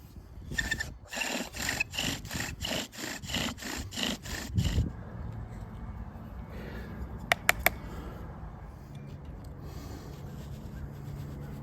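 Bow drill spins an oak spindle on an oak board to grind fresh dust, rapid rhythmic back-and-forth rasping strokes close by for several seconds, then quieter scraping and a couple of sharp clicks.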